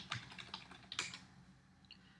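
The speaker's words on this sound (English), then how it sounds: "Let's click restore again." Quick bursts of computer clicks and taps at a desk while restoring a dock setting, a handful of close, light clicks early on, then a faint pair near the end.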